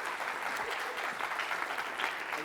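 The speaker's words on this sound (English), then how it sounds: "Don't clap too quickly" Audience applause in a lecture hall after a volunteer picks a cup in a stay-or-switch guessing game, a steady wash of clapping lasting a few seconds, fairly loud and alone without talk.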